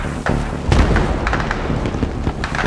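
Low booming thuds of mortar fire in the Battlefield 3 campaign, one heavy impact near the start and smaller thumps after, set in a dark city amid a dense game soundscape.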